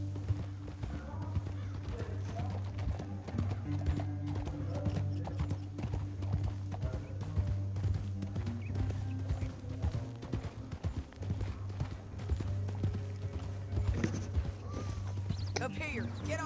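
Horse hooves clip-clop steadily through Red Dead Redemption on PS5, an even rhythm of hoofbeats close by that runs throughout, with an occasional whinny over a low droning music bed.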